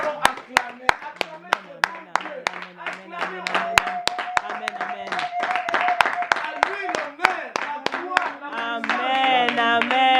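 A church congregation claps in acclamation, with steady, sharp, rhythmic hand claps keeping time under voices singing and chanting together.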